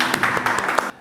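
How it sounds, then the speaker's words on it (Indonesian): A classroom of students applauds together, a short burst of several distinct claps that ends abruptly. "Ya, tepuk tangan dulu dah."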